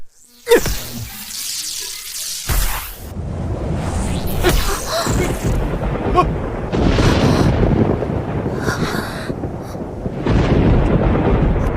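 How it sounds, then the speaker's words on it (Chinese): Loud thunder cracks and then rolls on in a heavy, sustained rumble, with no voices. "打雷了吗"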